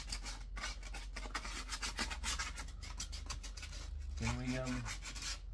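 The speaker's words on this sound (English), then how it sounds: "basically give these a light sand" Car parts get a light hand sanding, with quick, close, soft rubbing strokes in a rapid rhythm, and someone speaks briefly near the end.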